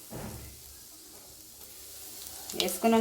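Cumin, mustard seeds and turmeric tempering in hot oil in a home kitchen: a brief sizzle at the start, a quieter stretch, then louder frying hiss and stirring clatter near the end.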